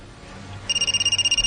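A cellphone rings with an incoming call in a radio drama, starting abruptly after a quiet moment and pulsing in rapid, evenly spaced electronic bursts, loud and close, with no talk over it.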